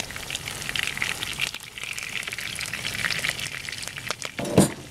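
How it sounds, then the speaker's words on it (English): Pork steaks browning in a frying pan, giving a steady close sizzle and crackle throughout with a brief louder stir or clatter near the end. "See, we're browning them."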